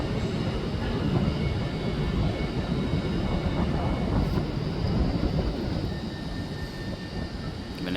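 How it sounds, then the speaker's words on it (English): A TransPennine Express Class 185 diesel train pulls out of Manchester Piccadilly station with a loud, sustained engine drone and rail rumble. The noise holds steady for several seconds and then eases slightly near the end. "I think that's Trans-Pennine Express 185 departing now."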